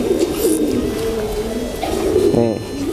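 Caged songbirds in a singing match, a Rampok and Kenwood crossbreed line, sound as close, loud continuous chirping and warbling, with a voice talking over it.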